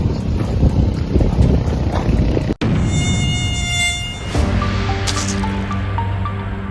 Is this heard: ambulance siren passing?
no